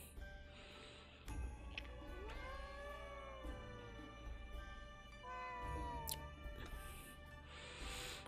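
A cat in the video game Ghostwire Tokyo lets out two drawn-out, wavering meows over steady game ambience, with a few faint clicks and chimes around them.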